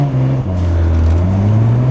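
A Nissan Skyline R33 GTR fitted with a JDM titanium exhaust pulls hard, its loud, close engine drone rising steadily in pitch as it accelerates with no break.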